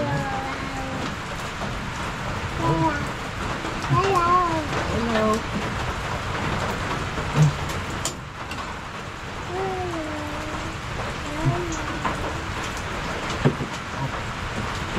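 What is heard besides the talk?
heavy rain falling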